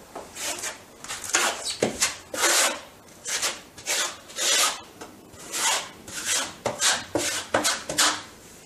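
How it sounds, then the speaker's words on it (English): Notch trowel scraping tile adhesive across a wall, a run of rasping, rubbing strokes, close and fairly loud, repeating in uneven bursts with no talk. "we then grab our notch trowel and then spread the adhesive"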